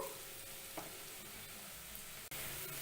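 Grated carrots with turmeric and salt sauté in a pan on a medium flame, giving a quiet, steady sizzle with faint stirring scrapes and one brief clatter near the end.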